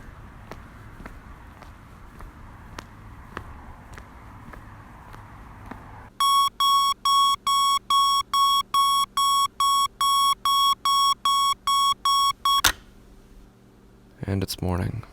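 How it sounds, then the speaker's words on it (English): A digital alarm clock goes off in a quiet house, repeating short loud electronic beeps in a steady rhythm for several seconds before cutting off, after a stretch of soft ticking and faint room sounds. "I was awake before the alarm clock sounded."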